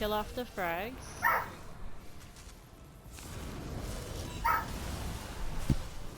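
Small dog barking indoors, with a few sharp yips and whimpers near the start and another bark midway, heard over someone talking and faint game sounds.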